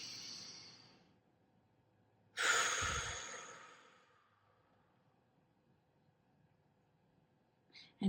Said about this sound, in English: So let's take a deep breath there.